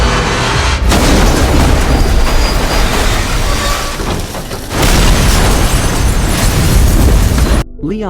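A truck crashes and explodes in a Resident Evil film scene, producing a loud, sustained roar of blasts and rumbling debris across the whole stretch, with a brief pause before a second heavy surge.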